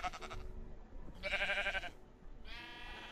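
Sheep in the video game Minecraft bleat three times in quick succession, each a short wavering baa, close and clear over a faint background.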